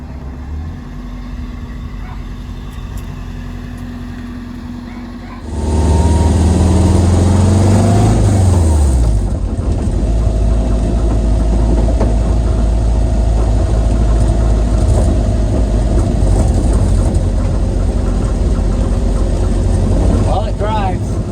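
A Subaru engine fitted in a VW Karmann Ghia, already running steadily before it revs up loudly and settles into a strong, rumbling idle close by, with someone talking briefly under it.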